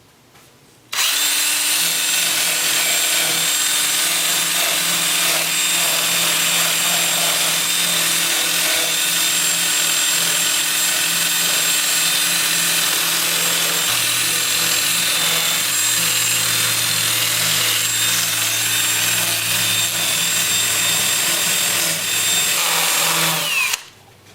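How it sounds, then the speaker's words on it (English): A 2-inch disc sander with 80-grit paper sands the interior of a sycamore wood turning, giving a loud, steady, continuous whir and abrasive hiss that runs unbroken for over twenty seconds, its hum dipping briefly partway through. "I'm going to switch to my 2-inch disc sander at 80 grit and sand the interior"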